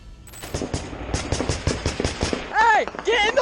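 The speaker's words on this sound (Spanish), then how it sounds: "Las balas volaban y las explosiones retumbaban" Rapid bursts of automatic gunfire crackle in a fast, uneven rhythm during a military raid on an ISIS leader's compound, then give way to loud shouting voices near the end.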